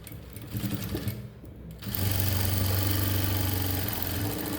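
An electric sewing machine joins the shoulder seam of a coat, starting after a brief lull and then running in a close, steady, rapid hum of needle strokes.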